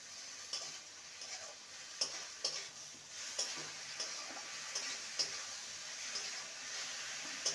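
Okra frying in a pan on medium flame is stirred steadily, a soft constant sizzle under regular light scrapes and taps of the spatula against the pan.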